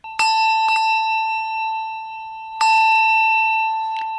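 A fixed-clapper handbell rung close and alone: three clear metallic strikes with a long, pure ringing tone that fades slowly between them.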